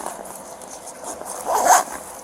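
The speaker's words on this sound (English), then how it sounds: "So if you unzip this" A zipper on a bag is pulled open in a store, making a brief rasping zip that swells to a louder burst near the end, close by and heard on its own.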